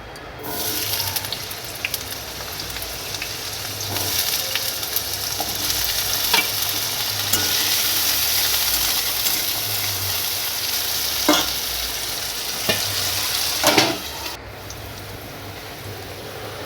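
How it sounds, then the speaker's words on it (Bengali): Round potato slices fry in a wok with cumin, giving a steady broadband sizzle throughout with occasional stirring scrapes and clinks; no one speaks. "আলুগুলো আমি পনিরের মতোই গোল গোল করে কেটে নিয়েছি সেগুলো এখন ভেজে নেব কড়াইতে জিরে ফোড়ন দিয়ে"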